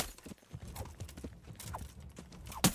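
Hoofbeats of a horse clop unevenly in the medieval game Kingdom Come Deliverance, quiet and close, ending in a sharp louder knock.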